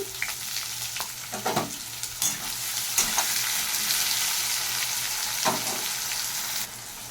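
Chopped potato and onion fry with cumin in a pan, a steady close sizzle with occasional stirring scrapes throughout.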